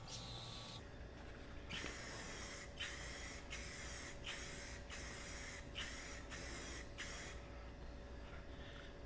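Rust-Oleum Performance Wheel spray paint hisses onto a Dodge Ram grill in about eight short, evenly spaced bursts, each a sharp airy spray close to the mic.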